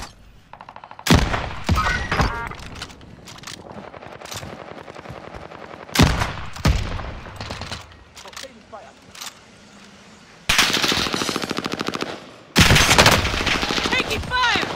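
Automatic and single gunfire in Call of Duty: Modern Warfare, loud close bursts recurring across the scene with sharp cracks, mixed with in-game radio voice callouts and background battle noise.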